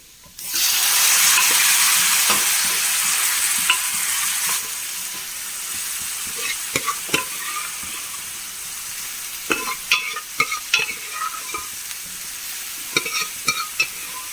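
Cooked beans being stirred into a pan of browned chili and coconut, with a loud sizzle at first that eases into steady frying, broken by scattered spoon scrapes and clicks.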